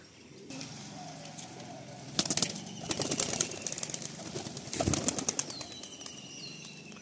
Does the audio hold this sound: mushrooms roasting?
no